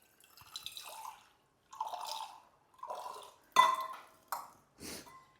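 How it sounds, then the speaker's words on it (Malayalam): Water poured into a cooking pot on a home stove, splashing and dripping in five or six short separate bursts, close by and fairly quiet, with no talking. "ഇനി വെള്ളം ഒഴിക്കുക."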